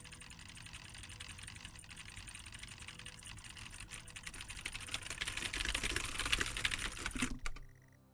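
Rapid clicky keyboard typing in the 1980s-set video game Stories Untold, a steady stream of close, crisp keystrokes that thicken into a louder, busier burst near the end before stopping abruptly.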